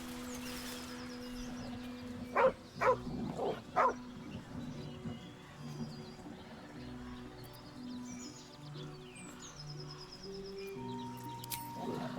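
A dog in a video game gives a few short yips or whimpers in a cluster early on, then quieter scattered sounds over a soft ambient background.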